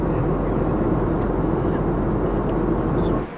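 Steady cabin roar inside an Air Astana passenger airplane in flight, a constant, loud broadband engine and air rumble that runs evenly throughout, then drops off abruptly at the very end.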